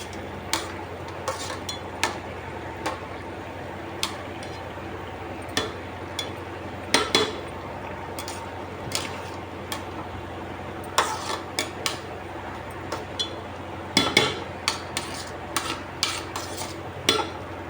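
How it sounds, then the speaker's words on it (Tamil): Chicken biryani in an electric cooker is stirred with a metal spoon, giving repeated sharp clinks and scrapes against the pot, irregular and close, with a lid clattering near the end and no talk. "ஒரு கிண்டு கிண்டிட்டு அப்படியே மூடியை போட்டுடுங்க"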